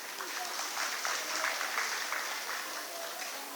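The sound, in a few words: applause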